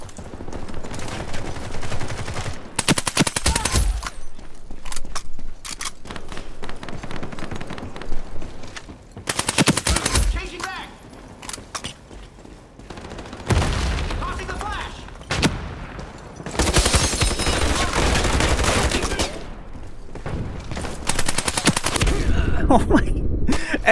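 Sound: VSS rifle gunfire in the video game Ironsight

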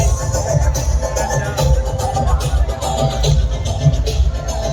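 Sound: large crowd at Navratri dandiya festival, Khed, Pune

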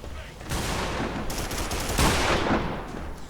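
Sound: gunfire in the video game Primal Carnage

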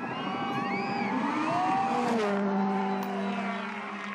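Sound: VW rally car accelerating, Rally Mexico 2014

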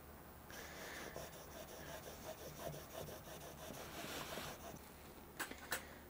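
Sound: chisel being sharpened on the 800 side of a sharpening stone

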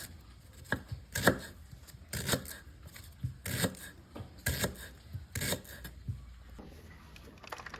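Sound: knife slicing lemongrass

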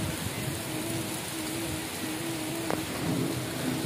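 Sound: heavy rain falling

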